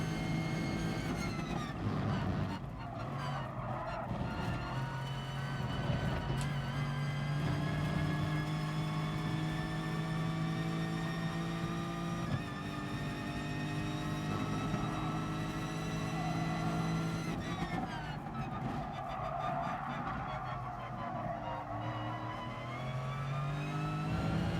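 A Lexus race car in Gran Turismo Sport laps the Red Bull Ring, its engine note droning and rising through the gears with tonal whine, shifting pitch around corners, sustained and fairly close.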